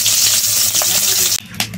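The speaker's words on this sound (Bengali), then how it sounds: "কড়াইতে আমি মাছ দিয়ে দিছি" Fish sizzles and spits in hot oil in a wok over a village cooking fire, a loud crackling fry that breaks off sharply near the end, followed by a faint clink.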